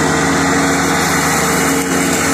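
Kubota tractor mowing a yard, its engine running in a steady, loud, continuous drone with a constant hum and no talk over it.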